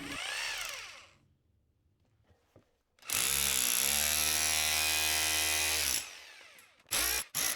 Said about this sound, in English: If you're going to do this, you should get a hammer drill.